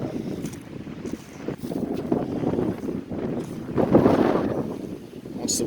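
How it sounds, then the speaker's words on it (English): Strong wind gusting across the microphone aboard a small camp-cruising sailboat sheltered behind an island, a steady broadband roar that surges and swells throughout, with water and boat noise blended underneath. "Wants to blow my hat off,"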